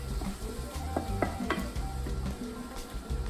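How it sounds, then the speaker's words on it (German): Tomato sauce simmers and bubbles in a pot with a soft, steady sizzle, with occasional faint clinks of a utensil against the pot, quiet and continuous. "Und dann lasse ich meine Tomate köcheln, bis eine dicke, etwas dicke Soße entsteht."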